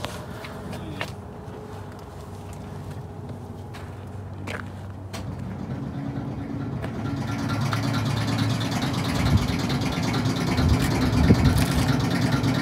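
An airplane is refueled from a fuel pump: a few clanks and handling knocks over a low engine-like hum, then a strong steady rush of fast-flowing fuel swells up and carries on loudly to the end.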